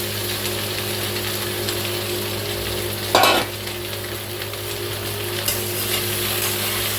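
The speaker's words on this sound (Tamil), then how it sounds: "அதனால் வெண்டைக்காய் நல்லா வதக்கணும்" Okra sautéing in a hot pressure cooker, a steady, loud sizzle and frying hiss throughout, broken once by a brief scrape of stirring, with no talk.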